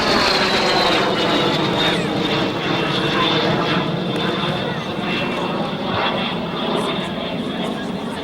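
An L-39 jet roars overhead at an airshow, a loud sustained engine whine with a high steady tone that shifts slightly as the aircraft passes and turns, while a commentator talks over it throughout.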